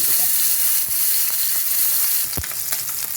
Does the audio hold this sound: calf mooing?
no